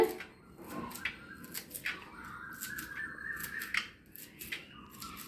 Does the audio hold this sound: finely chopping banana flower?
yes